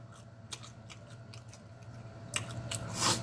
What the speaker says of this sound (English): You want to hear that crunch?